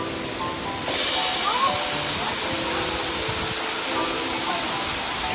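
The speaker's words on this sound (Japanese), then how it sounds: "思った以上にデカめの滝だった。" Tercera Cascada, a large, tall waterfall near Coroico, Bolivia, gives a steady broadband roar that swells louder after the first second and then holds constant and close, with faint voices underneath.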